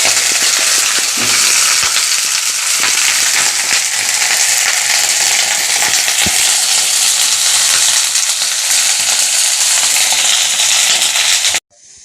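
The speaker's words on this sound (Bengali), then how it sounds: "ফুলকপির ডিমটা ভাজা হয়ে গেছে লাল লাল করে" Cauliflower coated in egg fries in hot oil in a pan, a loud, close, steady sizzle with occasional clinks, stopping suddenly near the end.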